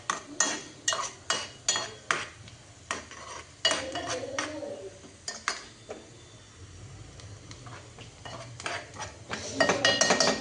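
Onion heats in a pan for Maggi noodles while a utensil knocks and scrapes against the metal in a quick run of sharp clinks, then irregular stirring taps over a low sizzle.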